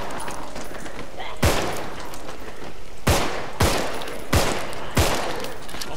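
A gun fires in the video game Contagion, with five sharp, loud shots spaced irregularly over a steady background of game ambience.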